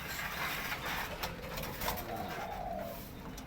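A bird calls with soft, repeated dove-like coos, fairly close, over a low background hiss with no talking.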